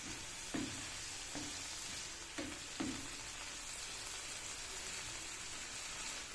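Ground meat frying in a pan for a giniling with ampalaya dish, a steady close sizzle with a few soft stirring scrapes near the start.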